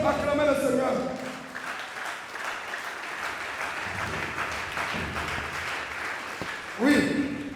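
A church congregation applauding and cheering for the Lord, steady clapping that swells throughout, with a preacher's voice briefly heard at the start and end.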